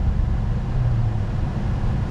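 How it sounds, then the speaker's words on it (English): A truck makes a U-turn on a snowy road, heard as a steady low engine rumble with a slight pitch rise midway. It sounds fairly loud and continuous, with no talk over it. "truck up here doing a freaking U-turn"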